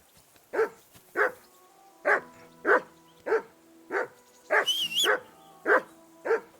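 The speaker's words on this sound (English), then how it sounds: "What's all the fuss about, Mutt? Are you that hungry?" Dog in the video game Kingdom Come Deliverance II barks about nine times in a steady, evenly spaced series, close and clear, with a brief whimpering whine partway through over a faint tonal background.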